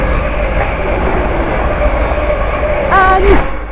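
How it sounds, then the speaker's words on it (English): Pair of Class 350 electric passenger units passing through a station, a steady loud rumble with a brief rising squeal near the end and a voice speaking over it. "Passing through now is a London First American pair of 350s"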